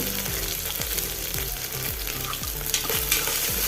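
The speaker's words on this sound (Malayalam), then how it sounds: "ഒരു ടീസ്പൂൺ അടുപ്പത്തിട്ട് ഒന്ന് ഇളക്കി കൊടുത്ത്" A spoon stirs frying masala in a pan on the stove, with a steady loud sizzle under a regular scraping rhythm of repeated strokes against the pan.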